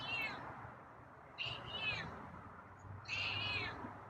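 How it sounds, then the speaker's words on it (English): Feral cat meowing repeatedly at night while waiting for food, three drawn-out cries spaced a couple of seconds apart, fairly close and clear over a low background hum. "Wow, meowy tonight."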